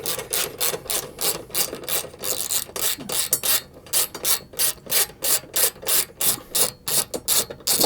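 A ratchet fitted with a 10 mm socket and extension backs out headlight mounting screws, giving a rapid, even run of rasping clicks in regular close bursts, loud and clear with no talking.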